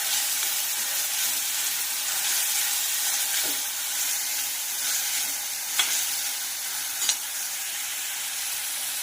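Chopped tomatoes frying in a pan for a capsicum vegetable dish, giving a steady, close, even hiss of sizzling with a couple of faint clicks and no talking.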